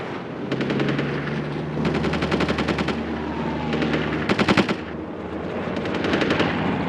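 Aerial battle between German Messerschmitts and British Spitfires and Hurricanes, with repeated bursts of rapid machine-gun fire over a loud, constant engine roar, the bursts separated by brief pauses.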